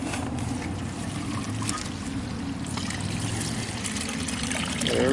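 Water runs through the bottom drain line as a backyard pool begins filling, a steady close trickle and gurgle that grows slightly louder at the end, with no talking.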